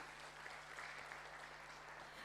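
An audience at an Atomy company presentation claps steadily, a dense wash of applause heard at a distance with no voices standing out.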